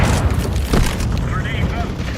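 A grenade blast in Counter-Strike 2 gives a loud, dense boom at close range, followed by a rumbling decay of gameplay noise.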